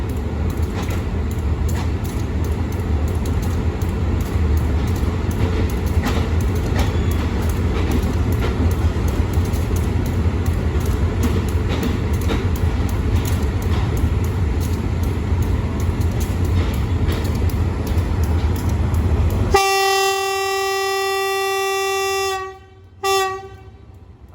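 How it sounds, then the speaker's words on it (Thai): A train departing Surat Thani station, Thailand, at night rumbles loudly and continuously, then a long, sustained horn blast sounds near the end before fading out. "ก็ออกจากสถานีรถไฟ สุราษฎร์ธานีแล้วครับ"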